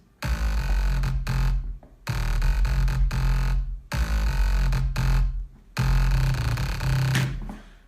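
A low bass synth layer from an FL Studio track pulses in loud sustained blocks with short gaps between, deep and heavy, playing alone with no talking.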